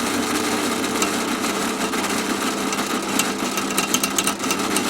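Drill boring through a bolt on the axle back plate of a Cummins-powered 1973 Foden S80 truck, a steady grinding whine under its own weight, growing rougher with sharp metallic clicks toward the end.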